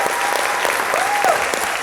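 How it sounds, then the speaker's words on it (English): An audience applauds a corporate team and staff at a company gathering, the clapping dense, steady and sustained throughout at a moderate distance. "I have to give a round of applause to our corporate team, our corporate staff, and most importantly, Sam Commodary."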